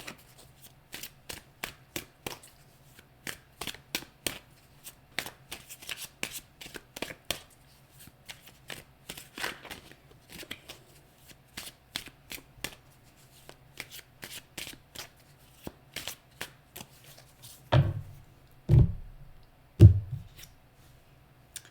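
Tarot cards being shuffled by hand, a long run of quick crisp riffling flicks close to the listener, ending in a few louder thumps as the deck is squared and handled, with no talk.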